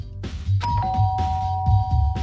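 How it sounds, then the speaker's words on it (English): A doorbell rings in the Danganronpa Trigger Happy Havoc video game, a clear electronic chime with sustained tones over a low pulsing background, heard alone without talk. "I pressed the doorbell."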